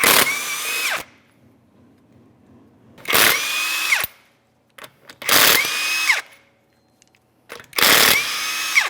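Impact gun whirring off a locking lug nut on a 2015-2019 Subaru Outback front wheel, four loud separate bursts of about a second each with quiet gaps between, no talk.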